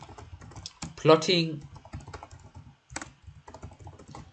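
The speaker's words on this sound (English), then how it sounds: "I'm actually typing the word comment" Quick rhythmic clicking of keys on a computer keyboard, close and steady throughout, with a voice speaking briefly over the tapping.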